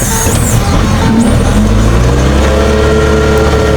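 A small walk-behind farm tractor engine runs steadily nearby in a rice field, a loud continuous mid-pitched mechanical drone with a low rumble and no speech over it.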